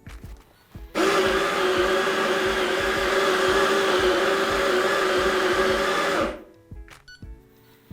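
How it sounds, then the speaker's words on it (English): A coffee grinder set finer for espresso from a La Pavoni lever machine runs steadily for about five seconds with a loud, even motor whir, then stops abruptly. "So let's fine this grind up just a little bit and we'll brew one more."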